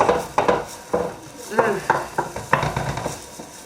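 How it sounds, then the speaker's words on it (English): Onions sizzle in a hot pan while a spoon scrapes and stirs in irregular strokes, close by. "I love the smell of frying onions."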